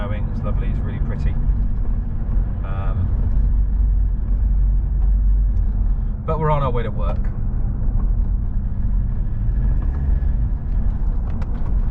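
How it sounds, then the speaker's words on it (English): A truck drives along a road on the way to work, a steady low engine and road rumble throughout, with a person talking over it in short stretches. "In the truck today, again stretching its legs."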